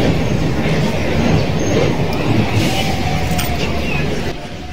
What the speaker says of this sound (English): The main train station.